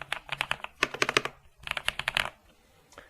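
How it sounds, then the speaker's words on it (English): Typing on a Kinst KN95 keyboard, a budget model: two quick bursts of clattering keystrokes, close and fairly loud, separated by a brief pause, with no voice. "This is like a, Kinst KN95. But it's a really nice keyboard."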